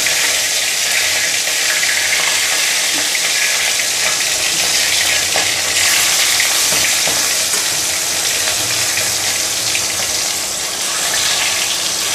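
Fish frying in hot oil in a frying pan makes a loud, continuous crackling sizzle that holds steady throughout, close and without speech.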